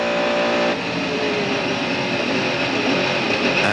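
A Mercedes CLR Le Mans race car, heard on board in 1999, accelerates out of a slow corner with a loud, sustained engine roar whose pitch climbs steadily.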